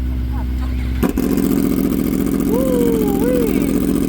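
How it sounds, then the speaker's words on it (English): A Kawasaki ZX10R with a cat delete warms up and revs, starting as a steady loud idle, then a sharp burst and rising, falling throttle blips close by with people talking. "Warming up the ZX10."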